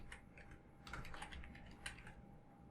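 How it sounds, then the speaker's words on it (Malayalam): Quick, light keystrokes on a computer keyboard as a file name is entered in Excel, a short burst of soft clicking over a quiet room hum with no voices. "ഫയൽ നെയിം ടൈപ്പ് ചെയ്ത് കൊടുക്കുക"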